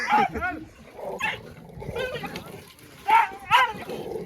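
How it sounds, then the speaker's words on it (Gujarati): Dogs bark and yelp in sharp bursts near the start and again near the end, with snarling scuffle noises and people talking in between. "કૂતરોની બબાલ થઈ ખતરનાક"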